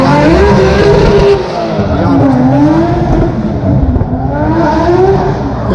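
Mercedes and Nissan drift cars slide across an asphalt lot at a spring drifting exhibition in Finland, engines revving and wavering loudly up close as tires squeal, with a commentator talking over the noise.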